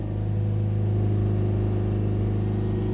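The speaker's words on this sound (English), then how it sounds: "we'll accelerate it up to 3000 RPM" Ford Transit van with a recurring DPF fault, its engine held at a steady elevated speed out of gear, a loud close continuous mechanical hum with stable tonal drone and no talk.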